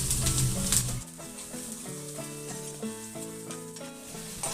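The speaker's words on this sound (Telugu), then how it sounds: "ఉల్లిపాయలు 2 కట్ చేసి ఆయిల్లో వేసుకొని ఫ్రై చేసుకోవాలి" Onion pieces fry in oil for an egg masala curry, a brief bright sizzle opening the clip before a steady melodic music track takes over and the frying fades beneath it.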